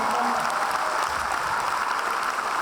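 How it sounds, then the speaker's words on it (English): Audience applause at a comedy laughter session at a Jaipur event, a thick, even roar of clapping from a large crowd that holds steady and loud for the whole stretch. "Let's give them a round of applause."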